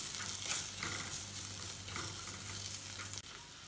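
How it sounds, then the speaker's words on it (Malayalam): Chilli, pepper, garam masala and roasted fenugreek powders sauté in a pan for fish masala, giving a soft, steady sizzle with close, gentle stirring scrapes and no talk. "ഇതെല്ലാം ചേർത്ത് വഴറ്റുക."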